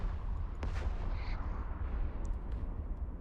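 Deep rumbling explosions from space combat in the video game Eve Online, a continuous loud low roar with a few sharper bursts rising over it, no voices.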